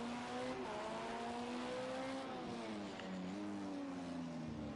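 An LMP2 prototype spins on the Indianapolis road course in a sim racing game, its engine a steady loud drone with shifting pitch as revs rise and fall, tyres scrubbing underneath throughout.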